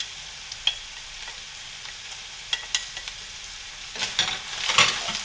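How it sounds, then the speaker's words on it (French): Cooked meat sizzling in a pan as chopped onions, carrots and celery go in for a lasagne sauce, a steady close hiss with scattered ticks that swells into a louder burst of frying near the end. "Et la viande, quand elle est cuite comme ça, on rajoute les oignons, carottes et céleri."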